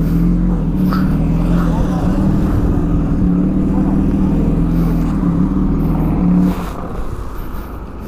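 Superbike engine, a Kawasaki ZX10R or BMW S1000RR, drones loudly and steadily as the rider holds a wheelie, then drops off near the end, with a voice talking over it.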